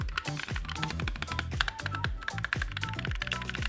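Rapid, irregular clicking and tapping of a Keychron K3 Max low-profile keyboard with double-shot PBT keycaps, typed continuously up close with no voices.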